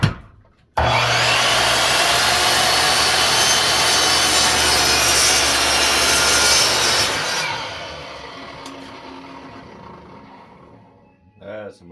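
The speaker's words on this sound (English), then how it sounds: "Skill makes nice saws, but they are noisy" A noisy Skil power saw rips through a wooden fence picket, a loud, steady, harsh whine lasting several seconds before it fades as the blade winds down, close up and with no talk.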